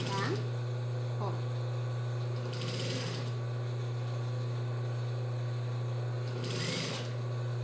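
A sewing machine runs a seam on a child's romper, giving a steady mechanical hum with a low drone and faint rhythmic stitching. Someone talks over it throughout.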